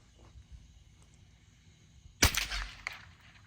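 A single sharp gunshot from a Ruger 10/22 rifle fitted with a Franklin Binary trigger and a new scope, one crisp crack followed by a short decay in a quiet outdoor setting.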